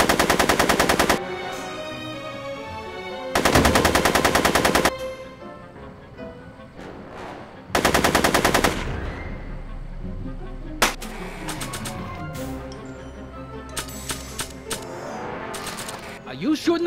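Bursts of machine gun fire in the Back to the Future video game, three long loud rattling volleys separated by pauses, followed by scattered single shots and clatter against game music.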